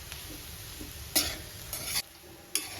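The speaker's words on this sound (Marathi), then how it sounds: "असं सारखं त्याला मिक्स करत राहायचं म्हणजे त्याचा कलर पण बदलत नाही" Desiccated coconut being roasted and stirred in a pan, with a faint sizzle and three sharp scraping strokes of the spoon against the pan.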